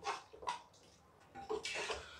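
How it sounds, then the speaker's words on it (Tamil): Water is poured into a pot of mutton for biryani, a few short splashing gushes separated by brief pauses, close and fairly quiet, with faint kitchen clatter. "மட்டன் மூழ்கிற அளவுக்கு தண்ணி சேர்த்தா போதும்."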